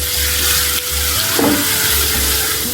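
Ginger garlic paste, 1.5 tablespoons, frying in hot oil with a loud, steady, close sizzle and a brief stirring scrape midway, for beef pasanday.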